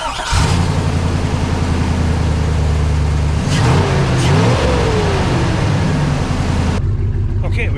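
A car engine idling steadily, then revving up and settling again after repairs, loud and close with a rough mid-range drone throughout and a clear rise in pitch midway before cutting off near the end.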